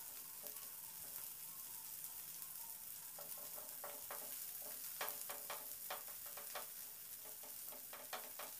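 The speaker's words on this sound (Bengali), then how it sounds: "এই ধনেপাতাটাকে হালকা করে একটু নাড়াচাড়া করে নেব তেলের উপরে।" Coriander leaves are stirred in hot oil for a bean mash, giving a faint, even sizzle with light scraping taps from the stirring spoon.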